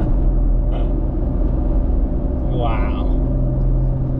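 A Jeep Gladiator truck cruising on the road at higher speed, giving a steady low engine and road rumble throughout with a brief whine, while a person speaks a short exclamation.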